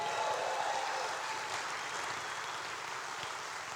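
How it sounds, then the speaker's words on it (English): A crowd applauds the Saluki drumline at a university foundation anniversary celebration, a sustained wash of clapping from many hands in a large room, gradually thinning as it goes on. "How about some applause for the Saluki drumline?"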